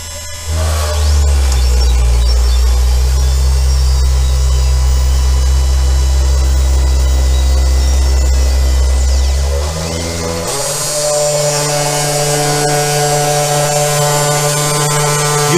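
A Sainsmart Genmitsu CNC 4040 Pro router spindle and motors whir and hum with a steady loud tonal drone, shifting to a higher whine about two-thirds through as the job continues, without talking.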